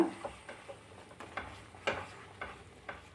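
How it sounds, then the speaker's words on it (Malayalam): Jaggery being stirred in a pan on the stove, with soft rhythmic scrapes of a spoon against the pan about twice a second under a faint sizzle, close and quiet. "ശർക്കര അല്ലെങ്കിൽ കരിഞ്ഞു പോകും അതുകൊണ്ട് നന്നായിട്ട് തന്നെ ഇളക്കിക്കൊണ്ടേയിരിക്കണം"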